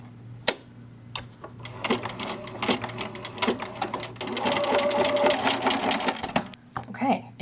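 A sewing machine stitches around a drawstring for a cinch bag, running in rapid mechanical bursts with short pauses and ticking starts, close and loud, with a voice speaking at points.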